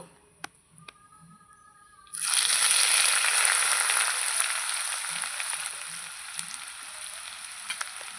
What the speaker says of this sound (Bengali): এবার আদা ফোড়ন দেব